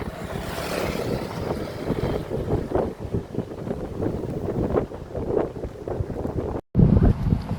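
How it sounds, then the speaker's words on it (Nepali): Strong wind blows across a bridge on a military base, buffeting the microphone in a steady, loud rumbling roar with gusty surges, a brief dropout and a harsh, heavy gust at the end. "हालियो जस्तो हुन्छ है हावाले।"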